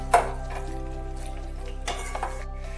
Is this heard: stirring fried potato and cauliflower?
yes